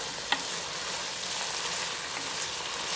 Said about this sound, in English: let it just sizzle